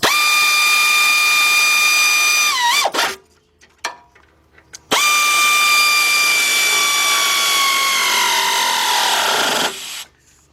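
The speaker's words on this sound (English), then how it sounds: "I'm just going to bring them in with the air ratchet" Air ratchet running down 18 mm rear brake bolts on a 2007 Chevy Tahoe, two loud whirring runs with a short pause between, the pitch dropping as each bolt snugs up.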